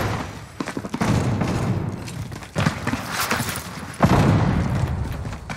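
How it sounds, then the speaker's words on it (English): Decoy grenades in the Warzone shooter game fake bursts of gunfire, giving irregular cracks and thumps with a few heavier booms amid continuous battle noise, fairly loud and close. "Yeah, decoy grenades."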